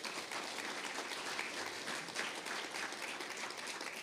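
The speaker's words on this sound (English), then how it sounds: "Save the applause for pearls of wisdom." A keynote audience at a general assembly breaks into steady, dense applause, a continuous wash of many hands clapping that holds at an even level throughout, with no talking over it.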